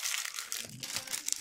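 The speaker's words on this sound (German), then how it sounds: "Und schütten die zweite Tüte auf." Crinkling and rustling of a small plastic bag as a second bag of Lego Star Wars pieces is tipped out for a walker build, a steady close crackle lasting over a second with faint talk low underneath.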